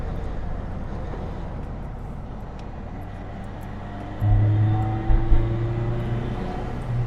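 An Isuzu 117 Coupe engine drones from inside the car and swells in a louder step as it accelerates, with a steady rumble and no talking.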